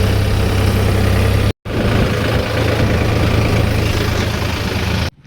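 A New Holland tractor engine running at a steady idle, a close, even mechanical drone with a low hum, briefly cut off once early and again at the end.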